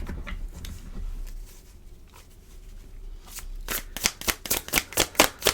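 Tarot card deck being shuffled by hand, soft rustling at first, then a quick run of about eight crisp riffling bursts in a steady rhythm, close and alone.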